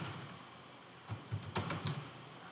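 Keys clatter on a computer keyboard as a command is typed, a quiet, close run of uneven taps that clusters into a quick burst near the end, with nothing else heard.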